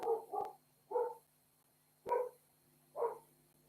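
A dog barks five times at a moderate distance indoors, in short evenly spaced woofs with no talking over them.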